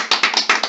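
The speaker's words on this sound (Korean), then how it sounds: "이제 박수 한번 치고 가시죠." Two hosts of a Korean stock-analysis channel clap their hands together in about five sharp, close claps spaced evenly across under a second, with no talking.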